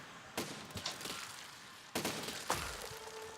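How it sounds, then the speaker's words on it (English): Enemy cannon fire in the Besiege video game: two sharp booming blasts about a second and a half apart, each followed by crackling debris and thuds, with a steady tone lingering near the end. "I didn't know they had enemy cannons."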